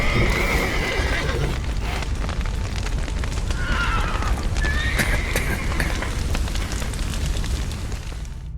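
Horses whinny and neigh in The Witcher 3: Wild Hunt amid a dense, roaring rumble like fire and crashing debris from a collapsed roof, with hooves clattering underneath.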